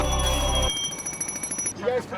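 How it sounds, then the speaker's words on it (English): A fire alarm sounds loud and steady for under a second during a citizens fire academy drill, then cuts off, leaving shuffling, clattering activity and faint voices. "obviously the alarm starts going"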